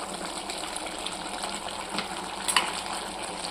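About one kilogram of mutton fries in oil in a pressure cooker pot, giving a continuous close sizzle and bubbling with a small clatter near the end, no speech.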